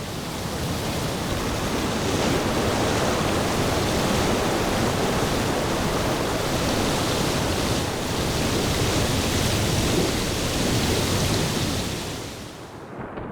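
A heavy Sonoran Desert thunderstorm, dense roaring rain with deep rumbling thunder, loud and continuous throughout before tapering off abruptly at the end.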